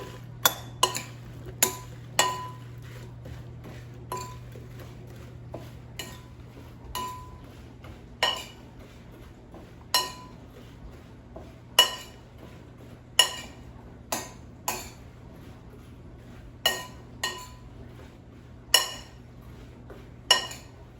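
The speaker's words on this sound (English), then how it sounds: "And now let's toss it to coat with oil and seasonings." Squash slices tossed with oil, garlic and Italian seasoning in a bowl, giving a steady run of sharp clinks and knocks against the dish, spaced irregularly over a low constant hum, with no talk.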